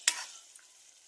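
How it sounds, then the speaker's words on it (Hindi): A quick burst of sizzling as food hits hot oil, then a softer, steady frying hiss that fades over about a second. "ये जो है इसको अच्छी तरीके से भुना जा रहा है"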